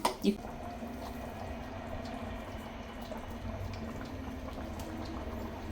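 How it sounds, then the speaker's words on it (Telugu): Fish curry (pulusu) with garlic cloves and ground spices simmering in a pot, a faint, steady bubbling hiss that holds evenly after a couple of brief knocks at the start. "మనకి చక్కగా పులుసు అనేది మరుగు పట్టింది"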